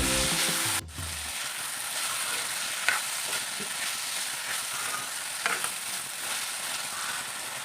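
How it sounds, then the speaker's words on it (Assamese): A spoon stirs taro curry as it fries in a pan, a steady close sizzle running throughout with a couple of sharper scraping clatters along the way and no talking. "এতিয়া ভালদৰে লৰাই লৈছোঁ"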